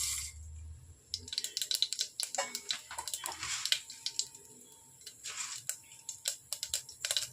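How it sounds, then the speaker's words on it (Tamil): Mustard seeds pop and crackle in hot oil in a kitchen pan, sharp irregular snaps in quick bursts, close and crisp. "கடுகு நல்லா பொரிஞ்சிருச்சு"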